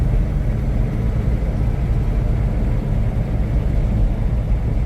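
A 1998 Hummer H1 open top drives over a bumpy road, filling the space with a constant loud, low engine and road rumble plus wind noise, with no pause.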